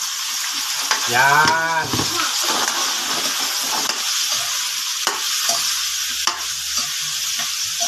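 Meat sautéing in a pan for a Filipino santol dish makes a steady close sizzle with occasional stirring scrapes, while a voice speaks briefly early on.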